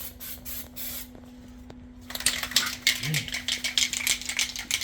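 A spray can hisses out texture coating onto the trunk of a 1951 Chevy Styleline, with loud rattling bursts of spray following a quieter lead-in, close and continuous.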